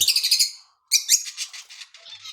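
Pet lovebirds in a cage chirp rapidly in bright, high twittering bursts, close and fairly loud, with a short pause before a second run of quicker, overlapping tweets.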